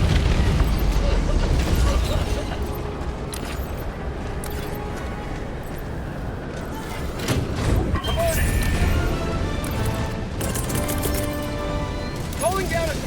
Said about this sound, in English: Yeah, I love these new bombs.